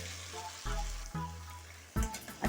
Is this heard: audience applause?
no